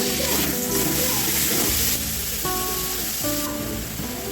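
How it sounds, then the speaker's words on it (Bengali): Boiled cabbage and cauliflower fry together in a pan with a little turmeric, giving a steady, close hissing sizzle throughout, with faint tonal sounds in the background. "এখন আমি সেদ্ধ করে রাখা বাঁধাকপি আর ফুলকপিগুলো একসাথে ভেজে নেব।"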